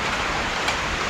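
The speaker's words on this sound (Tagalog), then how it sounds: "Ulan." Heavy rain during a town fiesta in Claveria, Misamis Oriental, Mindanao, a steady dense hiss of downpour close by, with no voices in the short stretch.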